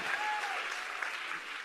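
Audience applause at a summit session, a dense, even wash of clapping from a crowd, moderately distant and continuous through the short stretch.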